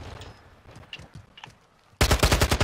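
Rapid automatic fire from the X13 Auto pistol in Call of Duty MWII bursts in loud and dense after quieter game sounds, a fast rattling volley filling the last second.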